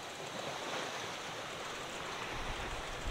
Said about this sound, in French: là j'ai environ 3 mètres de vague